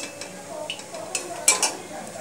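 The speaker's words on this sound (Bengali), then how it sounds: "তেল গরম হয়ে গেছে, তেলের মধ্যে এবার পটলগুলোকে দিয়ে দেব।" Pointed gourds (potol) drop into hot white oil in a kadai, giving a soft sizzle with a few quick clinks and scrapes of a utensil on the pan, close and fairly quiet.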